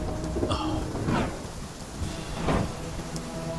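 Heavy rain pours down steadily during a storm, with a few low rumbling swells of thunder rising and fading through the downpour.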